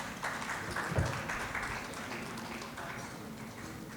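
Conference audience at a World Hepatitis Day medical event applauding as an honoree steps forward: steady, moderately distant clapping that sustains at an even level throughout, with a brief louder burst early on.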